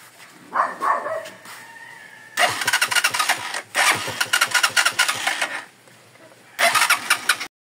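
A Rusi TC125 motorcycle engine is cranked repeatedly, with several bursts of rapid chugging turnover broken by short pauses and heard close and loud, and a faint dog bark early on.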